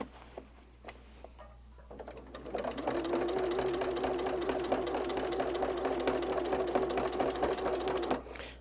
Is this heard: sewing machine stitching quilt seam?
yes